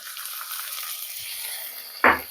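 Tomato frying with onion and ginger-garlic paste in a pan: a soft, even sizzling hiss runs throughout, ending in one sharp clank of a utensil near the end.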